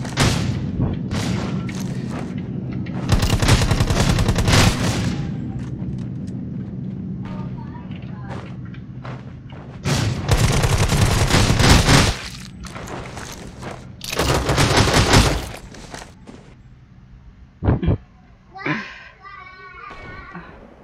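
Shotgun fire in a Filipino-language battle royale game, several loud blasts in bursts separated by quieter gaps, with lighter pops near the end and voices talking between them.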